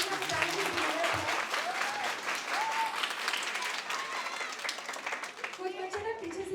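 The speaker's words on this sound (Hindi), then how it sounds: "I think we should give a big round of applause." An audience at an iris analysis event in Naraina claps loudly in a dense, sustained round of applause, with voices speaking over it throughout.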